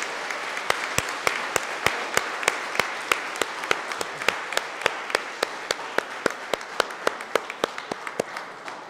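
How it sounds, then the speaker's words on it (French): Church congregation applauding a couple married 51 years, steady crowd clapping throughout with a regular series of sharp, loud claps standing out in an even rhythm, likely one person clapping near the microphone. "Alors, 51 ans, moi, un autre applaudissement pour eux autres."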